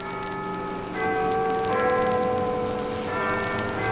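Cathedral church bells ring loudly with sustained, overlapping tones, and new strikes enter partway through as the ringing builds and continues without talk.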